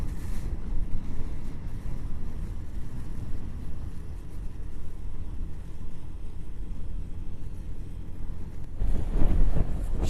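Strong wind buffets the microphone during a rainy, stormy ride on a Honda Genio scooter, a constant loud rushing roar that swells near the end.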